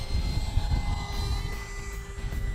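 A Freewing Seagull 1400mm EDF radio-controlled jet flies past with a steady whooshing ducted-fan whine and broad rushing noise that fades a little toward the end.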